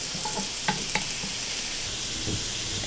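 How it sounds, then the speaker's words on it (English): Onions and green peppers sizzle in a hot pan, a steady close frying hiss with a few clicks of stirring, no voices. "So I'm about to add my onions, my green peppers."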